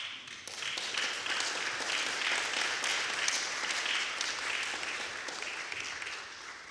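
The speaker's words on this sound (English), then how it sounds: "Give yourselves a round of applause." A church congregation applauds in a sustained, even patter of many hands clapping, moderately distant and steady throughout.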